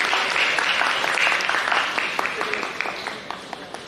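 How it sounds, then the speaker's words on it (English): Applause rises to welcome two speakers at a science communication conference on quantum science, dense clapping that thins and fades toward the end with a few scattered late claps. "Help me in extending a warm welcome with a big round of applause."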